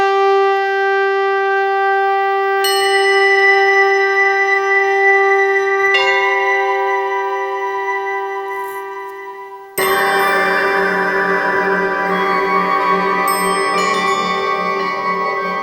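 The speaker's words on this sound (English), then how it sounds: "Pings, beeps, buzzes and jingles" A run of electronic device chimes, pings and jingles, bright tonal notes starting one after another and stacking up, ending in a dense, clashing jumble of ringing alerts.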